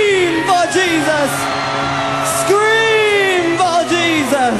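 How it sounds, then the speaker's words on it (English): A concert crowd at a show screams loudly and steadily, a wall of noise under a man's long, strained yells over the whole stretch. "Scream for Jesus."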